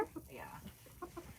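Chickens at an animal sanctuary give a few short, soft clucks close by, mixed with brief human speech.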